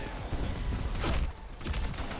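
Gunfire in the online shooter Black Squad, a dense burst of rapid shots filling most of the stretch with a brief dip midway, loud and close.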